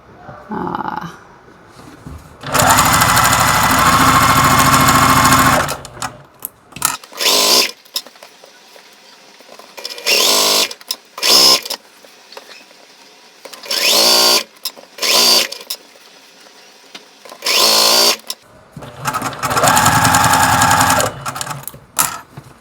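A sewing machine stitching fabric for a quilting sampler, running in loud close bursts of a few seconds each, separated by pauses and brief handling sounds.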